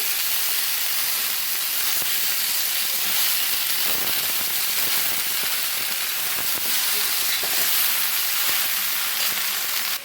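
Bottle gourd leaves and mixed vegetables frying and being stirred in a pan, a steady broadband hiss and sizzle running continuously and close throughout, with faint scraping knocks and no voices.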